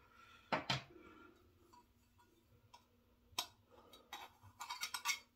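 Spoon scooping a sliver of firm, croap-like Henry et Victoria shaving soap from its container: a few faint close clicks and scrapes of metal on the tub, quiet overall with a short cluster near the end.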